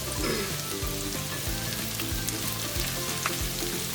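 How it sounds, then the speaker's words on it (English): Onions, ginger and garlic sauté in a pan for an Indian red lentil soup, giving a dense, even sizzle with soft crackles and some low rhythmic scraping or stirring throughout. "once you have the onions sauteing a little bit for a few minutes"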